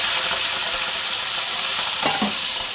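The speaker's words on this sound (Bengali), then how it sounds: "চিংড়ি মাছগুলো ভেজে নিচ্ছি" Shrimp halves frying in hot oil, a loud, dense, steady sizzle close up with brief stirring knocks near the end.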